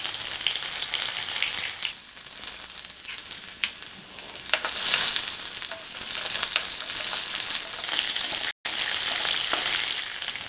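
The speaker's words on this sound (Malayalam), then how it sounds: "കടുക് പൊട്ടി വരുമ്പോഴേക്കും ഈ ഉള്ളി അരിഞ്ഞത്," Mustard seeds, chopped onion, dried chilli and curry leaves sizzle loudly in hot coconut oil, a close continuous hiss with scattered pops and crackles and one brief dropout near the end.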